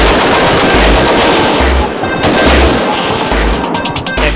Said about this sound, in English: Expert range officers guide you as you fire on your target